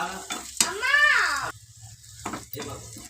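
Sizzling oil from a pan tempering for chutney crackles steadily through the short stretch, with a high, wavering voice-like tone briefly rising over the hiss partway through.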